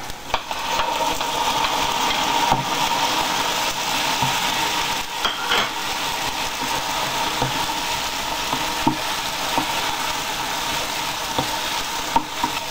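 Chopped tomato hitting an onion and almond sofrito in a hot pan for calamares en salsa, steady close sizzling and frying with scattered scrapes and taps of stirring throughout.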